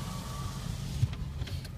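Electric power window motor on a 2002 Ford F350 7.3L diesel dually truck, a steady low whirring hum running through the moment with a slight bump near the middle, close and moderately loud, no talking.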